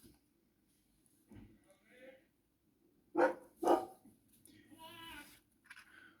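A dog barks indoors, a couple of loud sharp barks in the middle followed by quieter yips, with faint background noise in between.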